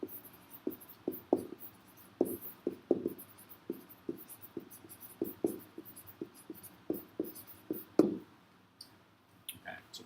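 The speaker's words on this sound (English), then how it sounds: "go ahead and just sketch a quick diagram of what this thing is going to look like" Pen strokes sketching a quick geometry diagram of parallel lines by hand, short scratchy marks in irregular bursts, close and fairly quiet, with no talking.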